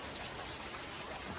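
Steady rain falls over farmland during the monsoon, a soft even hiss of drops that is faint and distant, with no voices over it.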